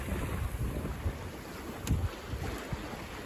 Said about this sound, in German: So, wir segeln schön Butterfly die Elbe rauf.